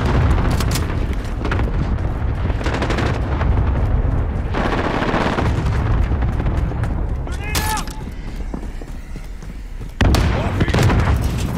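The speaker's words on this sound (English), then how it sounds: "Allied cluster strike inbound." Cluster strike explosions in Call of Duty: Modern Warfare multiplayer, loud close booms and rapid gunfire in dense overlapping bursts, with players talking over the chaos.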